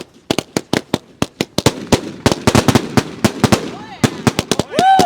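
New Year's Eve firework cake with 49 shots firing a rapid, loud string of sharp bangs and pops, with short crackles and whistles between bursts, and no talking.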